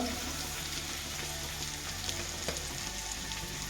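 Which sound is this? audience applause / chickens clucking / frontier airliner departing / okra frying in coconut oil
okra frying in coconut oil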